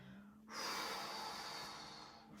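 A single long, breathy exhale through the nose during a yoga-pilates exercise, close and clear, starting abruptly and fading slowly over about two seconds.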